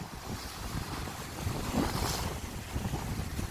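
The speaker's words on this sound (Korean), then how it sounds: "갑자기 바람이 불면서 급체가 많이 터졌습니다" Strong gusts of wind buffet a seaside rock ledge used for fishing, a steady roaring rush with waves surging underneath, loud and close with no voices.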